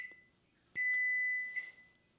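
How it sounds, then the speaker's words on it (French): A kitchen microwave oven gives a single sustained electronic beep of under a second, clear and steady against a quiet room, with a faint click before it. "je sais pas si vous entendez le micro-ondes, j'espère pas"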